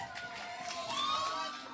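Audience at a school drama showcase cheers and whoops, faint and brief, with a few rising voices over a soft crowd wash.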